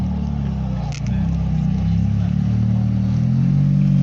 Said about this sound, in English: That's a Ferrari F430. Listen to that.